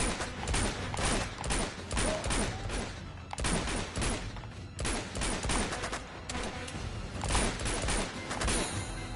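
Dense bursts of gunfire in the Uncharted video game, rapid volleys and machine-gun rattles in repeated loud clusters with brief lulls between them.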